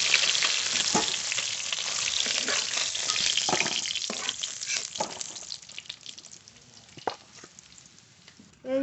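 Fish sizzle steadily in hot oil, a close, dense frying hiss with occasional sharper pops and spatters, fading slightly toward the end.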